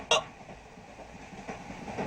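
A train runs with the listener inside a railway compartment: a steady low rumble of the moving carriage, with a sharp click near the start and soft knocks later.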